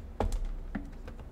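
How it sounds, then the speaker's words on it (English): A few computer keyboard keys clicking during a Hogwarts Legacy gaming session, several sharp close taps spaced irregularly over a quiet background with no talk. "Sorry, there was something stuck on my keyboard."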